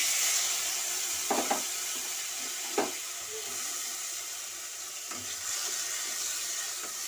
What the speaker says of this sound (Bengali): এর মধ্যে এবার আমি যে বাটনাটা বেটেছিলাম ধনে মৌরি বাটা, আমি ওটা দিয়ে দিচ্ছি